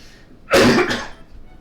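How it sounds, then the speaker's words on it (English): A single harsh cough, loud and close, in otherwise quiet surroundings, in the game Fortune Street. "Stupid cough."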